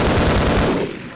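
SMG fire from the Half-Life video game: a loud, close, rapid burst of automatic shots rattling for about a second before tailing off, with no talking.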